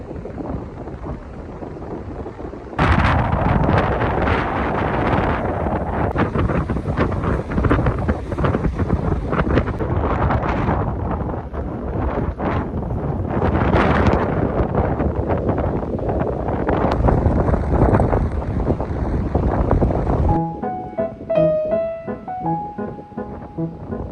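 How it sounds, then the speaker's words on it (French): Strong wind blasting across a sandy coastal hiking trail, loud continuous buffeting and rumbling over the microphone for most of the stretch, then dropping away abruptly near the end. "avec le vent très fort"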